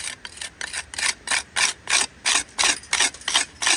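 A tool rasps back lime mortar with 15mm aggregate in stone wall joints, a rhythmic series of about a dozen harsh scraping strokes, close and loud, each stroke short with brief pauses between.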